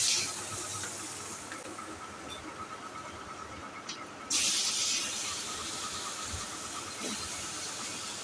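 Cumin seeds hit oil that is already hot and slightly burnt from frying fish in a kadai. A steady low hiss jumps into a louder, brighter sizzle partway through and then holds steady.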